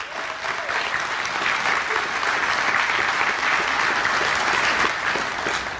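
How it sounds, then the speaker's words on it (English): Steady applause from an audience at a church-style gathering, honoring the security guards, sustained and fairly loud throughout with crowd clapping filling the room. "And let's give them a round of applause for what they have done."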